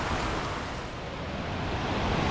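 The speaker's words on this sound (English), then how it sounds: "rain's coming down good now" Heavy rain pours steadily on a wooded hiking trail near a waterfall in High Falls State Park, Jackson, Georgia, a dense, loud, continuous hiss with no pauses and no voices.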